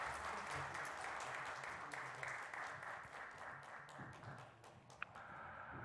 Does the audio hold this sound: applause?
yes